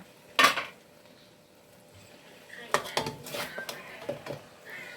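A pot lid is set down on a pot of braising pork leg in a Thai home kitchen: one sharp metallic clank up close, then a quieter spell, then a run of lighter clatters and knocks.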